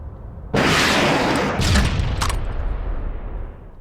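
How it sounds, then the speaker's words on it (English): A rocket launcher fires in the video game Perfect Dark Zero with a sudden loud blast, then a rushing roar and a second burst of explosions that slowly trail off. "The rocket launcher is exactly what you'd expect."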